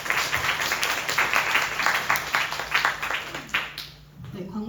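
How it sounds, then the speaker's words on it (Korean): Church congregation applauding an elder after his sermon at an end-of-semester worship service, a steady wash of many hands clapping for several seconds before fading out. "말씀 전해주신 장로님께 큰 감사의 박수 부탁드립니다."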